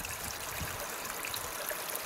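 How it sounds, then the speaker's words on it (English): River water rushes steadily through a gold prospecting sluice in an ancient glacier riverbed, a continuous close hiss and trickle with no voices. "I got a little bit better water flow now though"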